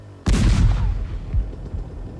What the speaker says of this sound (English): your bike would get launched hundreds of feet into the air with the sound of a cannon blast